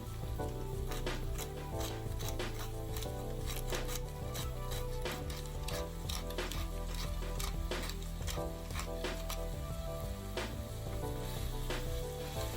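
Minced meat sizzles and crackles in a frying pan, a dense steady hiss dotted with sharp pops and spatters that runs without pause, close and fairly quiet, with no one talking.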